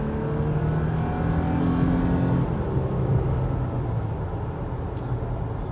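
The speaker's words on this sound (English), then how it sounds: "We can give it some more gas going up this hill." A 2020 Toyota Tacoma TRD Sport with 278 horsepower climbs a hill under added throttle, heard from inside the cab as a steady, loud engine drone and road rumble with a slight rise in pitch.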